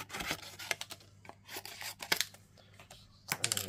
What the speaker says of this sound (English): I'm just going to cut that down a little bit so it goes straight.